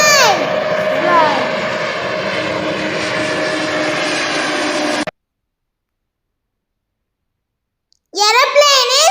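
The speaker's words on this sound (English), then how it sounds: "Aeroplane is flying." Aeroplane flying: a steady, loud broadband engine roar with a tonal hum runs for about five seconds, then cuts to silence before a voice speaks.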